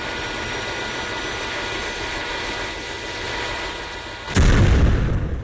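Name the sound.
rocket turbine shaking and exploding in Roblox game A Desrt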